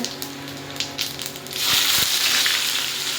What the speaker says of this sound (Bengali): এবার তেলটা গরম হয়ে গেছে, শুকনো লঙ্কা, তেজপাতা দিয়ে